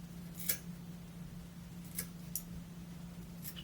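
Scissors trimming material while tying a Z-Man crayfish fishing lure for smallmouth bass give a few short, crisp snips spaced a second or so apart over a steady low hum.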